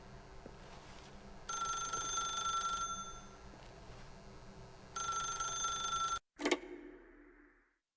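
A telephone rings in The Stanley Parable: two bright electronic ring bursts over a quiet ambient hum, then a brief click and fade.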